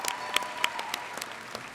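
A graduation crowd gives a brief round of applause for families, with sharp scattered claps ringing out quickly in a large gathering.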